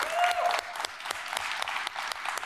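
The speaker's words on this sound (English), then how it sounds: "Can we get a round of applause for that?" A live studio audience at a Juneteenth town hall celebration gives a brief round of applause, with crisp, close clapping that is strongest at the start and stays steady afterward.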